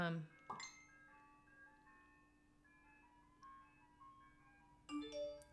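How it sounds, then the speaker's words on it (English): A faint, tinkling ice cream truck jingle plays in the distance, thin melodic tones drifting along, with brief voices at the start and end. "Can you guys hear the ice cream truck?"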